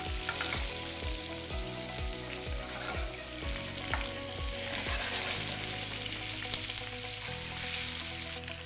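Short ribs sear in a pan with carrots and garlic, a loud continuous sizzle and crackle with rhythmic scraping strokes of a utensil repeating about twice a second, no voices.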